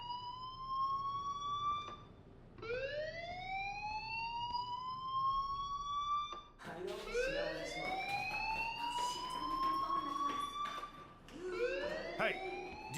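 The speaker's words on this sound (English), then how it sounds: "do you hear that fire alarm? That means you should be outside." Fire alarm ringing in the Life is Strange video game: a rising electronic whoop that sweeps upward and repeats in long cycles, clear and fairly loud, with a faint hum beneath.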